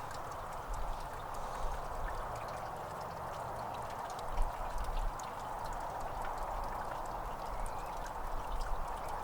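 Water pours and streams steadily while fine flour gold is washed, a close and continuous gush with small splashes and no talking.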